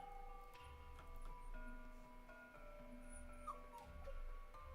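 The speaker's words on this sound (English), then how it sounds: "Sorry if you can hear my little dog whining in the background." A small dog whines in the background of an indoor room, thin high whimpers coming and going faintly over a steady low hum and ticking, with no talking.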